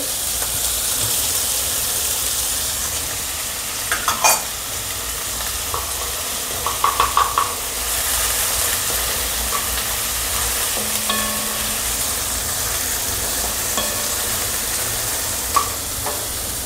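Potato bhaji with garlic, green chili and onion fries in a pan, a continuous close sizzle and hiss broken by occasional clinks and scrapes of a spoon stirring.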